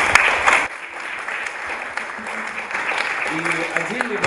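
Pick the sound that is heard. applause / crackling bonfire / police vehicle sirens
applause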